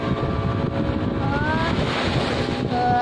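Steady wind buffets the microphone aboard a fishing boat at sea, with a continuous wash of waves and water beneath it, loud and close, with no voices.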